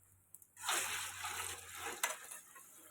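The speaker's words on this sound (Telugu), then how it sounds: "వాటర్ ఒక గిన్నె వేస్తున్నా" Water pours into a pot for sago payasam in one short gush that starts abruptly and tapers off, close and fairly quiet, with a small clink partway through and a low hum underneath.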